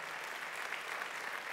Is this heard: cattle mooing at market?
no